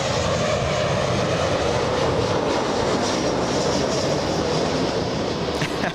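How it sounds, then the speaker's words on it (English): A Boeing 737 airliner on approach to land at Los Angeles International Airport, its jet engines roaring loud and steady throughout with a broad rushing drone and no talk. "let's go take a look at the 737 coming in"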